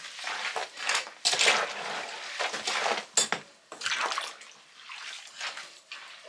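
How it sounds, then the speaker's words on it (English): Soaked horse feed is stirred in water, giving irregular wet sloshing and scraping bursts at close range, each swirl rising and fading with short pauses between, no voices. "Give it a good stir."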